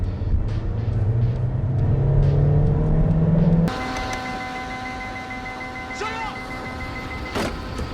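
A tuned MK6 Jetta TDI with DSG transmission revs in manual shift mode, its engine drone climbing steadily before cutting abruptly to a quieter idle with a faint whine.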